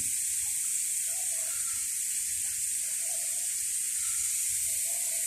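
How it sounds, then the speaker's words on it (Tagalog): Water gushing and overflowing while watering a date palm outdoors, a steady unbroken hiss and rush of flow, close and even throughout with no talking. "Ang daming nasasayang na tubig. Maapaw na."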